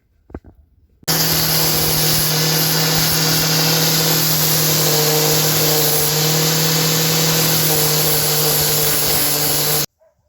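An angle grinder stripping paint from a window frame starts abruptly and runs at a steady, loud whine for about nine seconds before cutting off.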